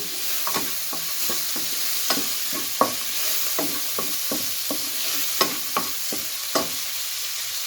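Chicken pieces frying for egg fried rice, a steady loud sizzle broken by a dozen or so sharp scraping strokes of a spatula against the pan at an uneven rhythm.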